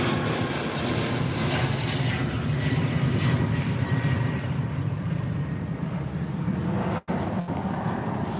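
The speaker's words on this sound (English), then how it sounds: "here's a United flight taking off just over the trees" An airliner takes off overhead at Chicago O'Hare, its engines a loud broad roar that stays steady and close throughout.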